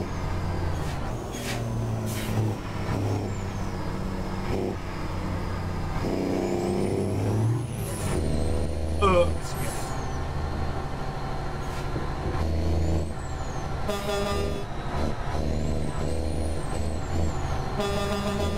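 Truck engine droning steadily in a realistic truck-driving video game, with tonal whines and horn-like toots layered over the low rumble and short hissing bursts like air brakes releasing.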